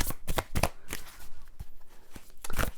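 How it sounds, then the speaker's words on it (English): A deck of oracle cards being shuffled by hand: several quick, crisp riffling bursts of card noise close up, separated by short pauses, with no talking. "I'm doing the worst shuffle here, by the way, ever."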